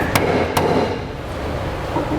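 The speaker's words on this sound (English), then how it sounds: "just strike the end of the pry bar with a hammer" A hammer strikes the end of a steel pry bar twice in quick succession, with sharp, loud metallic blows near the start. The bar is nudging a rear cross rail into place while a B&W fifth-wheel hitch is fitted under a 2002 Dodge Ram pickup.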